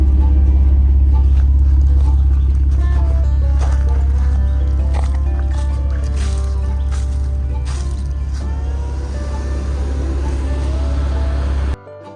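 A 10,000-pound winch strains and bogs down while hauling a stuck vehicle, giving a loud, steady low motor drone that holds for about twelve seconds before cutting off abruptly.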